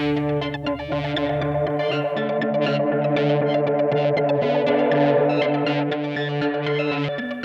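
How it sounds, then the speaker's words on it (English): Eurorack synth tones run through a lo-fi tape-style modulation guitar pedal, sustained harmonic notes with a gentle wavering pitch wobble, steady and fairly loud, with no voice present. "You get that cassette modulation without the cassette hiss."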